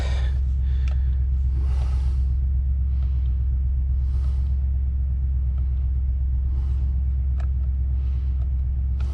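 A Ford F350 XL truck engine idles with a steady, loud, close low rumble after starting, with faint intermittent noises above it and no talking.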